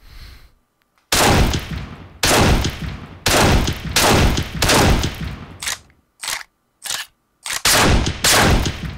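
Rapid bursts of automatic gunfire in the Xbox 360 shooter Breach tear into concrete pillars, close and loud, in about ten separate volleys with short silent gaps, the later ones shorter and choppier.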